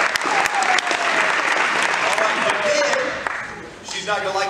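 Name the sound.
round of applause for Kim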